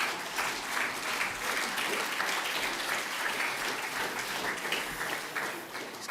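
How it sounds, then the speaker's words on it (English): Steady applause from a hall audience at an awards ceremony, a dense sustained wash of clapping from many people, moderately distant and continuing unbroken with a faint murmur underneath. "Give a round of applause to Craig Howard"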